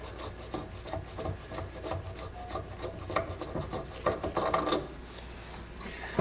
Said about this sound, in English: So we're going to unscrew this.